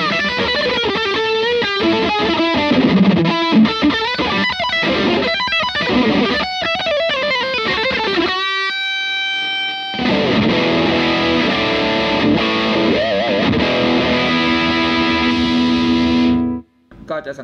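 An electric guitar plays through a Visual Sound Jekyll & Hyde overdrive pedal, gritty riffs and chords, then a pause followed by sustained distorted notes ringing out.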